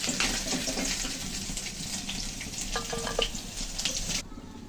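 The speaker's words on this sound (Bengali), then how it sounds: "প্রথমে মাছটা ভালো করে ভেজে নিলাম, এখন তুলে নেব।" Stinging catfish fry in hot oil in a pan, giving a dense, loud, continuous sizzle and crackle up close, with no one talking.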